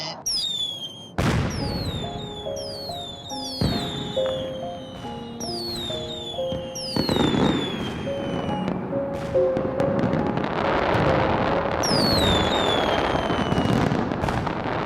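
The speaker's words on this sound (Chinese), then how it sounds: "今晚的烟花只为你一人绽放" Fireworks whistle upward and burst one after another, loud booms and crackles piling into a continuous, echoing barrage.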